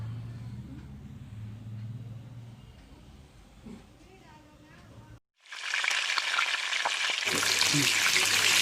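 Stuffed chilli bajji, batter-dipped chillies, frying in hot oil gives a loud, close, continuous sizzle that starts abruptly midway after a stretch of quieter kitchen sounds and a voice.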